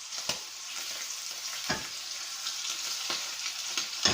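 Fresh pike fillet cooks in a hot pan, giving a steady close sizzle with crackles and a few sharper spits popping through at intervals, with no voices.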